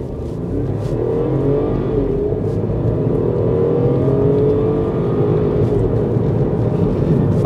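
A turbocharged 1.5-litre B38 three-cylinder engine in an F56 MINI Cooper pulls hard under acceleration, a steady loud drone with rising engine tones and no talking over it.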